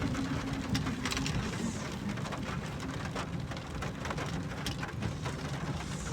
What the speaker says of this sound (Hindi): बाहर निकले तो बाहर बारिश हो रही थी